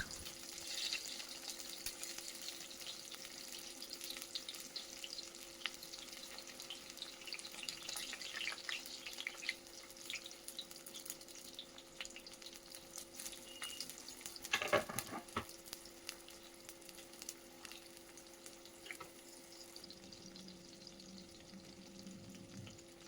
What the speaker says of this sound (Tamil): ஒரு பேன் வச்சு நல்லா ஒரு குழிக்கரண்டி அளவுக்கு ஆயில் விட்டு நம்ம கட் பண்ணி வச்ச கத்திரிக்காய், தக்காளி எல்லாத்தையுமே இதில் சேர்த்துக்கலாம்